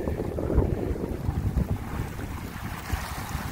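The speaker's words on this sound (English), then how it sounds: "in this kind of breeze, I guess anything will move, eh?" Steady wind gusts buffet a Compac 19 sailboat under main sail in a strong breeze near a harbor, a continuous low rumbling roar with surging swells, loud and close, with no talking.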